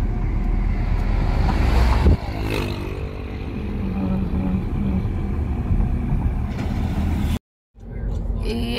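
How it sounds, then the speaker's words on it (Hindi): Strong wind buffets the microphone beside lake water where people are boating in Karachi's summer heat, a loud steady rumble with a faint watery wash and a brief dropout near the end. "लोग बोटिंग कर रहे हैं अंदर पानी में इतनी गर्मी में"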